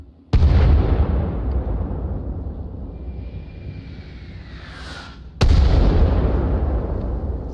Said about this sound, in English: He's letting their mortars off.